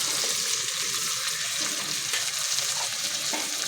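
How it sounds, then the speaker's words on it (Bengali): Tomatoes and green chillies fry in hot oil, giving a dense, continuous sizzle that stays loud and even throughout, with faint stirring underneath. "সব কিছু ভালো করে ভেজে নেব"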